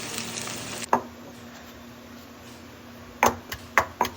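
Smashed shallots fry in hot oil for a Kerala prawn curry, a steady soft sizzle broken by a few sharp clanks and scrapes of stirring, close by with no voices.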